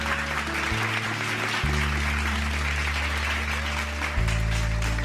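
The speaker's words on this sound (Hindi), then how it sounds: "एक बार जोरदार तालियां" An audience claps loudly on a Hindi television talent show stage as a contestant is eliminated, the steady applause running beneath dramatic, droning background music throughout.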